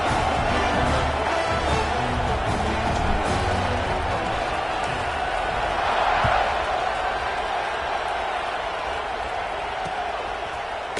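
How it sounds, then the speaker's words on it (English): A large football stadium crowd buzzing after a score, a loud continuous roar of voices with a commentator talking over it. "this crowd is buzzing after that last score"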